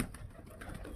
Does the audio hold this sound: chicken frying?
no